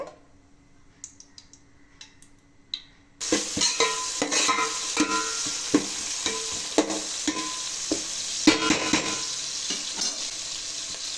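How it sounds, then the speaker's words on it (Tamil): Onions sautéing in hot oil in a pot for paneer biryani: after quiet clinks, a sudden steady sizzle starts, punctuated by repeated scraping and tapping of a spoon stirring the pan, close up. "வெங்காயம் நல்லா வதங்கட்டோங்க"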